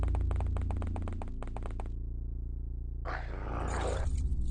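A dog growls in the X-Com video game. A rough, low growl lasts about a second midway through, set against a steady hum of game music and ambience.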